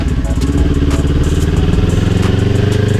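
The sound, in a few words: motorcycle riding at constant speed in second gear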